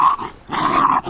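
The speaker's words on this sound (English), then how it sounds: "Just puppies playing." Young dog, a puppy named Moss on a lead, growling in playful bursts at close range, two rough snarling runs split by a short pause.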